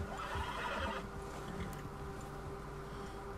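A horse in the video game Red Dead Redemption 2 gives a spooked neigh, a clear whinny with hoof clops and a low steady background hum.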